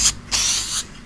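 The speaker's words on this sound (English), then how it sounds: "Not too fussy with spraying these because I'm only using spray filler" An aerosol can of spray filler is sprayed onto Suzuki A100 motorcycle parts in a close, loud hiss, one short burst followed by a longer one of about half a second, no talking.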